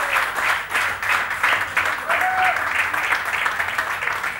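Applause for India's Asian Games medal winner Shweta Chowdhury at a felicitation event: steady, dense clapping from a crowd throughout, fairly loud and close.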